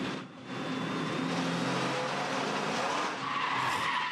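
A V8 Ute race car revs hard and its tires squeal across a rumble strip, a loud, sustained engine and skidding roar that dips briefly before surging again.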